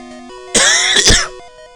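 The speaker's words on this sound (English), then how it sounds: "Damn cough." A single harsh cough with a throat-clearing quality, loud and close, cutting in over chiptune music from The Legend of Zelda: Oracle of Ages.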